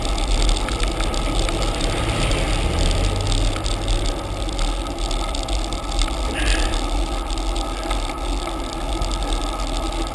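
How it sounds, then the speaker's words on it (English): A car engine rumbles steadily, nearby and fairly loud throughout, on narrow, rural Fleecydale Road, with no voices. "Here comes the second vehicle of the day"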